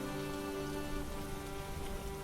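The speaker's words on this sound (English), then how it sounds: "The raindrops falling, rolling down the tiles" Rain falling on roof tiles as a steady, even patter of drops, close and continuous with no voices.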